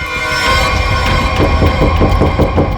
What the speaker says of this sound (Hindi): किसी चीज के ठोकने की आवाज है सर।